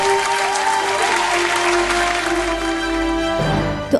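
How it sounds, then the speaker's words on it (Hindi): Loud, sustained applause from the audience of a gospel singing competition show, clapping filling the room over a held musical tone before fading near the end. "जोरदार तालियां हो जाए दोस्तों।"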